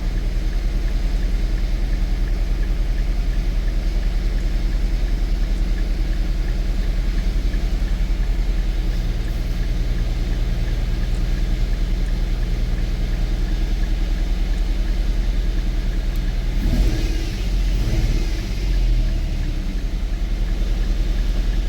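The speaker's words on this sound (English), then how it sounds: "The misfires seem a little bit more aggressive now than it was before." An Infiniti M35 engine idling with a misfire, a loud steady low rumble that swells briefly near the end as it revs.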